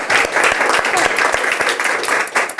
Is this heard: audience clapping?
yes